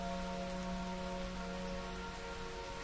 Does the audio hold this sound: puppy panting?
no